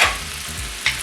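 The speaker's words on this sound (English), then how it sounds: "it's making noise. So what does that mean? It's sizzling." Pan sizzles and fries while spaghetti carbonara cooks, a steady close hiss with low clattering stir sounds and a brief sharper flare near the end.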